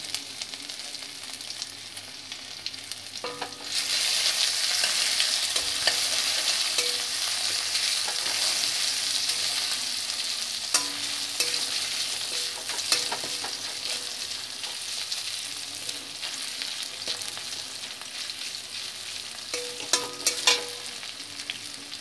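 Ginger and green chili paste mixed with asafoetida and a little turmeric sizzles steadily in a hot pan, a loud continuous frying hiss with occasional clinks and scrapes of stirring, no talking.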